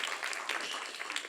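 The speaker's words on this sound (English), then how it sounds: "one more round of applause for Dr." A symposium audience gives a short, fairly quiet burst of applause for a speaker, continuous clapping with no talking.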